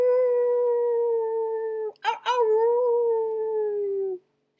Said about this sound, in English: Far from behind him, he heard Lucy's anguished howl.